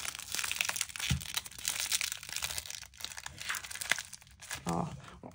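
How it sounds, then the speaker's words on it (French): Paper packaging crinkling and tearing as it is opened, close and fairly quiet, with irregular rustles and a few sharp cracks, while a person speaks intermittently. "les bruits de papier, c'est juste horrible."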